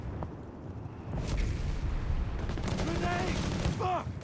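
Heavy automatic gunfire in the real-time strategy game Company of Heroes, Wehrmacht against US Forces, a dense continuous rattle of machine-gun fire with booming impacts throughout, the sound swelling after the first second and staying loud until a slight drop at the end.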